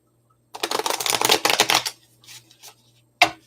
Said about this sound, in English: I'm going to shuffle this for a minute.